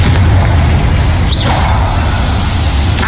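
A Confringo blasting spell goes off in Hogwarts Legacy as a loud, deep boom with a brief whooshing swish, low rumble filling the short burst and trailing away without any talk.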